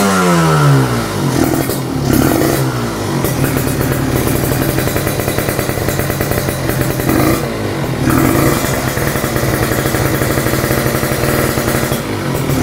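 A Kawasaki Ninja two-stroke motorcycle idles while warming up after sitting unused for two months, its loud, close, raspy engine crackling steadily with a few small blips in revs, and no talking.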